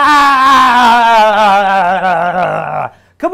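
One person screaming for catharsis during a fitness and health masterclass, a loud, sustained, strained cry held for nearly three seconds before breaking off, then a short second burst.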